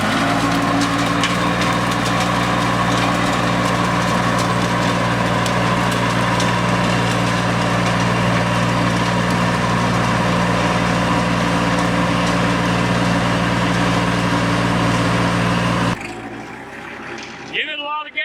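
Kubota L2501 tractor engine running steadily with a strong low-pitched drone and a broad mechanical clatter, loud and close for about sixteen seconds, then cutting off abruptly into near quiet at the end.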